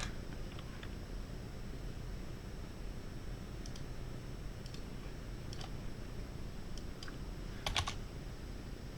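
Computer keyboard typing while entering web code for an Express.js route, sparse light key clicks in small clusters over a steady fan hiss, quiet and close, with no speech.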